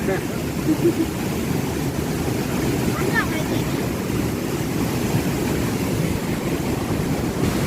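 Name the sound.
waterfall in Champasak, Laos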